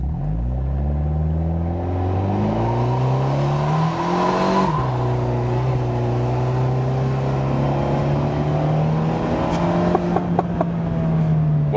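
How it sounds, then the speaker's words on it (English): A 2017 Abarth 124 Spider with a 170 hp engine accelerates hard in sport mode from a brake-held launch. The engine note climbs loud and close, drops sharply at a gear change, then rises again in a long, strong pull. "I stay with the right foot on the brake and let the car, preload a little bit, and then we have even better acceleration"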